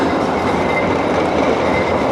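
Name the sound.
tram number 40 rumbling past in Saint Petersburg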